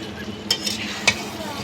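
Chicken curry being stirred in a pan, a soft continuous sizzle broken by a few brief scrapes of a spoon against the metal, close and moderately loud, with no talk.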